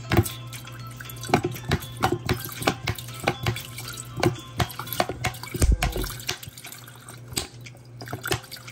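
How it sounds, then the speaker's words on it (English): Lemon juice poured from a half-full bottle into a kettle to clean stains inside, giving a run of close, irregular dripping and splashing liquid sounds with a low steady hum underneath. "so we're gonna pour it inside the kettle"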